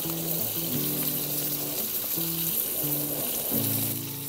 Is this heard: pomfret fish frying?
yes